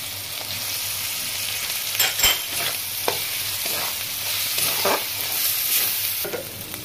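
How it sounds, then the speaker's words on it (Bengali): Steady sizzling of spices frying in a pan for chicken keema, with occasional scraping and stirring strokes, no voices. "মশলাটা একটু হাফ ভাজা হয়েছে"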